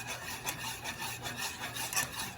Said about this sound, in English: We're just gonna slowly add it in, like so. And then we're gonna whisk that in.